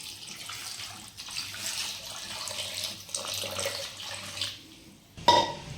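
Water pours into a pan of chopped tomatoes, carrot and garlic to make pizza sauce, giving a steady, fairly faint running splash that stops and is followed by a short clink.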